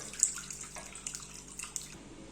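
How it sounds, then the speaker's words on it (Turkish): Homemade sour cherry sherbet is poured through a strainer, a steady close trickle of liquid with a few light splashes and drips over about two seconds. "Şimdi bir süzgeç yardımıyla süzeceğim."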